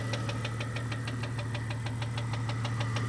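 Jeep Cherokee 4.0 engine idling with a steady rapid knock, piston slap or rod knock, ticking evenly over the low hum of the motor throughout.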